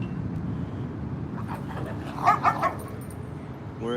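A few short puppy barks and yips in quick succession in a dog park, set against steady outdoor background noise, moderately close.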